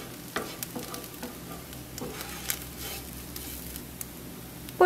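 Egg for fried rice cooking in a pan, a steady soft sizzle with light scattered ticks and stirring scrapes, close and alone without talk.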